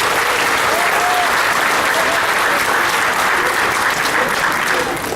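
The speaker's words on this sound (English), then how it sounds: "Let's give them another round of applause." Sustained applause from a large crowd at a Union Pacific 150th anniversary celebration, a steady, dense wash of clapping that holds for the whole stretch without letting up.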